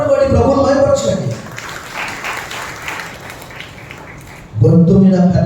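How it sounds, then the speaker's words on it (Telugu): A church congregation at a Sunday Pentecost worship service in Nellore breaks into loud, sustained applause for several seconds, with a preacher's voice speaking just before and after it. "చప్పట్లు కొట్టి ప్రభువును మహిమపరచండి."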